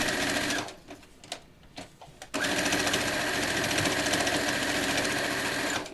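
A sewing machine stitches a quilt in a steady, loud, fast whirring run. A brief pause with a few clicks comes first, then continuous stitching to the end.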